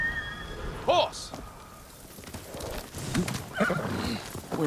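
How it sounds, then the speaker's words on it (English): A horse whinnies sharply, then hooves clop along with another snort and neigh, set against a faint background hum in the video game Ghost of Tsushima Director's Cut. "Horse!"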